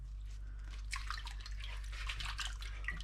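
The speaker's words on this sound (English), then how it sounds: "So nice sink full of water. So just basically rub them on both sides and make sure they're nice and clean." Grape vine leaves being rubbed clean by hand in a sink full of water, giving soft continuous splashing and dripping close by over a steady low hum, with no talking.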